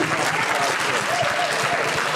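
Conference audience applause in a hall, a sustained, full wash of many hands clapping at an even level throughout, with a few voices faintly underneath.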